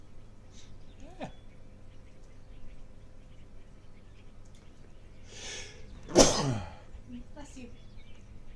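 A single sharp sneeze bursts out in the middle of a livestream of the game Far Cry 4, rising briefly above quiet background game sound, with a fainter vocal sound shortly before it.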